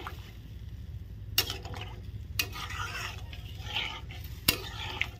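Food stirred in a pan for a Kashmiri egg and potato curry, a low, quiet simmer broken by a few sharp clinks and scrapes of a spoon against metal.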